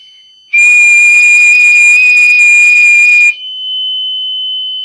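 Human whistling mixed with a buzzer tone: a loud, steady, piercing pitch starts abruptly, holds for about three seconds and cuts off, leaving a quieter steady tone behind.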